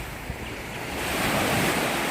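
Sea waves roll onto the sand at Sattahip beach in Chonburi, a steady broad wash of surf with wind buffeting the microphone, swelling louder halfway through and no talk.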